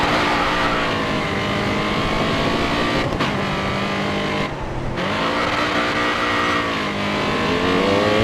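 A race car engine roars steadily in the racing video game GRID Autosport as the car heads off road, with continuous loud revving, shifting pitch and a brief dip near the middle.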